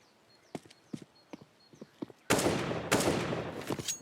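Gunfire in the video game CS:GO on the Inferno map: a series of sharp single shots at uneven intervals, followed by a loud, dense burst of rapid fire that continues to the end.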